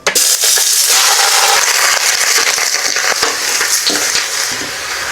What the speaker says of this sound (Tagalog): Dahil isisir ko yung baka.